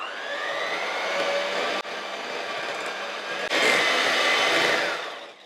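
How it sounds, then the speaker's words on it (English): Electric hand mixer creaming softened butter with sugar for a rhubarb orange banana cake, a steady close whirring drone that runs continuously with a brief dip partway and then grows louder before tapering at the end. "We're going to mix this together till it's nice and soft and fluffy."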